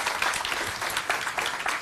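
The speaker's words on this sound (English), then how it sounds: "Give them a round of applause." Audience at a London conference session claps as one, steady dense applause filling the whole short stretch, with no talk over it.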